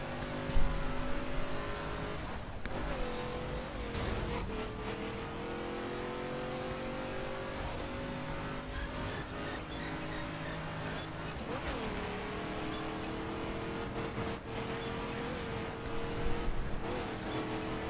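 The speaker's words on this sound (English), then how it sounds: "I'm using a drag car here, the RT35 rough" RT35 drag car from The Crew racing game, its engine droning and revving steadily throughout with shifting pitch, occasional tire noise and surges, loud and continuous with no talk.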